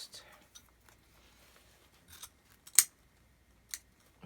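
Scissors snip a few times through paper or fabric, producing sharp, close, isolated clicks with quiet gaps between them.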